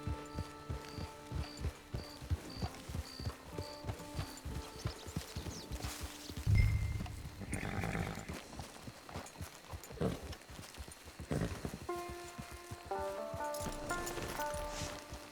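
Steady clip-clop of hooves walking at an even pace, fairly faint, with a brief rustle and scattered tones partway through.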